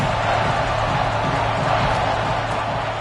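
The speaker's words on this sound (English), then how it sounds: "this crowd is at fever pitch" Dense roar of a football stadium crowd cheering during a third-down play in the red zone, a loud, continuous wash of voices with no distinct individual shouts.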